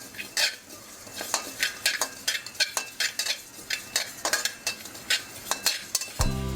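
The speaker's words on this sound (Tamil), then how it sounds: "வெந்தயத்தையும் நல்லா பதமாக வறுத்துருங்க சோம்பு நூறு அதையும் நல்லா வறுத்துருங்க" Fenugreek and fennel seeds roasting in a pan, stirred with a utensil in quick repeated scraping strokes and light clinks over a faint dry sizzle, close and rhythmic.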